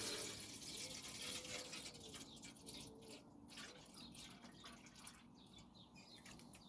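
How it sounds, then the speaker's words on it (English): A small watering can pours onto young tomato plants in a self-watering planter, making a steady, soft trickle and splash of water that runs continuously at moderate volume. "the little watering can."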